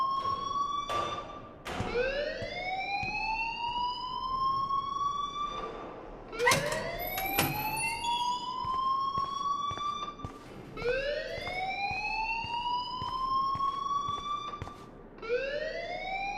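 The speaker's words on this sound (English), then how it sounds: "please turn off that alarm since that's your job." An electronic fire alarm in the video game Life Is Strange wails in repeated rising sweeps, each climbing and holding before restarting, continuous and fairly loud with occasional thuds beneath.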